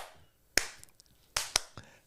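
Sharp percussive claps or snaps in a loose rhythm, a single hit then a quick pair and a softer one, close and dry with no talking, marking out a song's beat.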